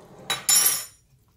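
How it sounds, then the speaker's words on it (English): A utensil scrapes through jeera chicken with coriander and Kashmiri chilli powder in a pan, two quick close clinks and scrapes in about a second, then quiet. "Give that a stir."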